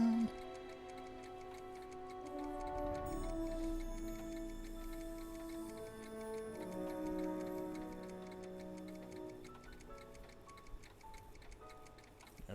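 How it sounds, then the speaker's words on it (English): A clock tower ticks steadily in the Back to the Future adventure game, a soft regular tick-tock under sustained melodic music tones, faint and even throughout. "There's a clock tower."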